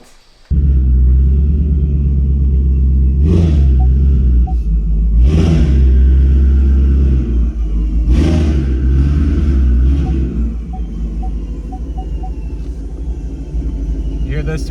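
A 2024 Ford Mustang engine rumbles loudly and steadily, with a few rev surges, a strained turbo whine riding on top of the low drone.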